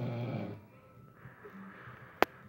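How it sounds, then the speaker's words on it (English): A sleeping woman gives a brief, low, rumbling snore at the start. Faint quiet follows, broken by one sharp click near the end. "She snores a lot."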